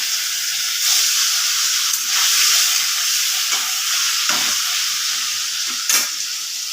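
Paneer fries in oily spice masala with a constant hissing sizzle, punctuated by occasional soft scrapes and knocks from stirring.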